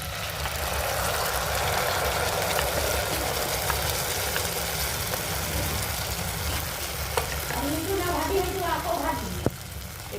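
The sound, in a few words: cashew paste poured into frying onions, sizzling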